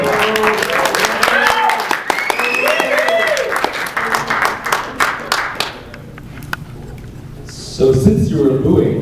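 An audience at a DJ event claps and cheers for Stefan, a dense round of applause under a host's voice that thins out, then swells again briefly near the end.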